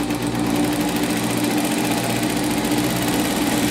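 Sewing machine running steadily while stitching down a folded one-centimetre seam allowance on a dress, a loud, even motor hum with rapid needle chatter throughout.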